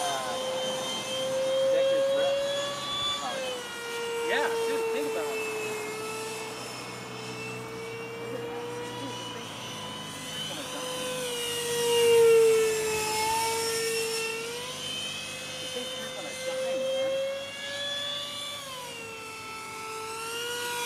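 Electric RC Eurofighter model jet flying overhead, a whining electric ducted-fan tone that rises and falls as it passes and loops, loudest around midway, with faint voices at a distance.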